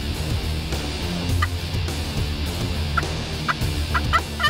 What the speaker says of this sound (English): Gobble. We're after turkeys.